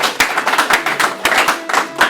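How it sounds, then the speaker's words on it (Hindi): Audience at a Republic Day poetry event claps to welcome a poet on stage, a short burst of sharp, uneven hand claps from a small crowd, close and fairly loud. "एक बार तालियां बजा करके उनका स्वागत"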